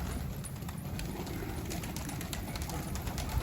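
A red roller pigeon coos near a coop while handlers try to catch it with a net, with low, continuous murmuring coos under outdoor background noise.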